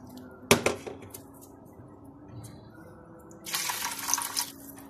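Water poured from a tap into a cooking pot for rice, a brief splash at first, a quiet pause, then a steady stream running near.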